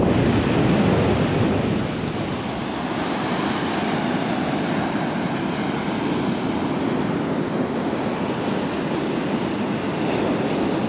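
Waves wash onto a sandy beach at Arcachon as a continuous broad roar, with wind buffeting the microphone throughout and no clear voices.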